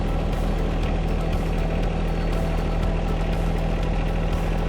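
A John Deere 1 Series compact tractor engine running steadily as it pulls up to a 120R loader and its parking stand, a continuous close, loud low diesel drone with an even hum and no pauses.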